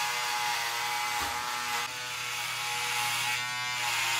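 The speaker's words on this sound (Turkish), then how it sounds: "Çıkan sese bak beynimi götürüyor makine direkt." Electric hair clipper buzzing steadily and loudly at close range while hair is shaved into a T-shaped pattern, a constant whine with one brief dip partway through.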